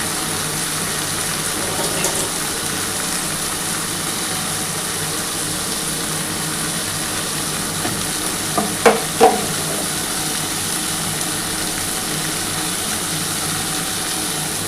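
Ground spice paste with black pepper paste frying in a pan for a light rohu fish curry, a steady low sizzle throughout with a couple of brief stirring scrapes near the middle.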